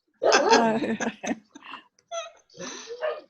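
A dog barks and yips in a short, uneven burst of several calls, close and fairly loud, with a whimpering quality; the barks are heard without talk over them.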